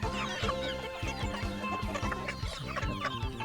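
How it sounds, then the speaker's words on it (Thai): Native chickens mixed with domestic fowl cluck continuously on a Thai farm with a chick-rearing pen, many birds overlapping in a busy, nearby chorus of short repeated calls. "ส่วน ไก่ พวกนี้ก็จะมีไก่บ้านมาผสม"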